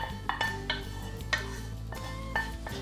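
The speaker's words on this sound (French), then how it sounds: "on va tout mettre ça dans une casserole ou une cocotte" Pieces of squirrel meat placed into a casserole pot, giving several clinking and scraping knocks of metal and utensils at irregular intervals, close and fairly quiet, with no talk.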